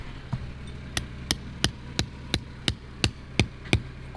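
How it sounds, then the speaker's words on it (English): Hammer blows on a deck building site, eleven sharp, evenly spaced strikes about a third of a second apart, close and loud over a steady low background hum. "Now, I'm gonna have to use a hammer for that."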